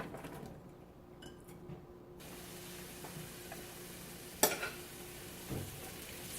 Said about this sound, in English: And now I'm going to saute the onions.